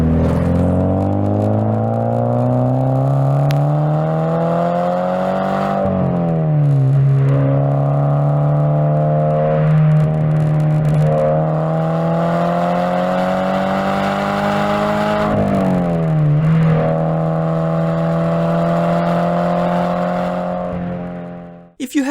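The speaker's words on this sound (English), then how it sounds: "Here is the recording from the GT86 once I move the mic further away." Engine and exhaust of a Toyota GT86 drone steadily under load, rising in pitch through long pulls with two quick drops as the gears change, recorded at a slight distance.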